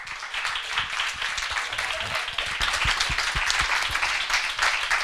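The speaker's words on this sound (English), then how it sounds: "So a round of applause, please, for our panelists." An audience at a panel event on women in the film industry applauds the panelists, a dense run of clapping with sharp individual claps standing out near the microphone, building slightly louder partway through.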